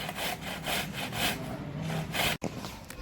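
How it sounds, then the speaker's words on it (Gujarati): Vegetables such as carrot, bottle gourd, potato and onion rubbed back and forth over a hand grater for a semolina vegetable handvo batter, giving steady, close rasping strokes in a repeated rhythm with a brief pause near the end. "આ રીતે છીણીની મદદથી બધું છીણી લઈશું"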